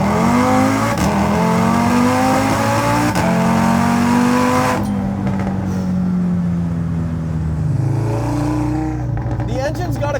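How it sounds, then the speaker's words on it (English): A 780 hp Audi RS3 engine revs hard on a public road and climbs in pitch through several gear shifts, loud and close, with a roaring exhaust note throughout. "The engine's got a cool sound."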